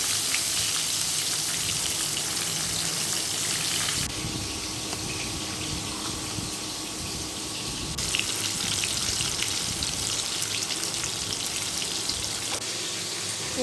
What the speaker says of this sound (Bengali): কড়াইতে তেল গরম করে তাতে তেজপাতা, পাঁচফোড়ন ও টমেটো, কাঁচা লঙ্কা দিয়ে